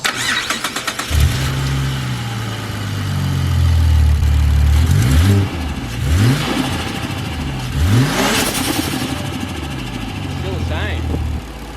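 Ford XR6 Turbo engine with a stiffened exhaust spring, cranking and catching, then idling and blipped through several sharp revs that rise and drop, close and loud, with someone talking briefly over it.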